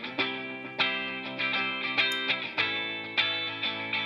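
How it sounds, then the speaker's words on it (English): A bright, buzzy sustained tone plays a series of evenly spaced repeating notes through a delay effect in Cubase, with each attack trailing into the next. "There's the delay in."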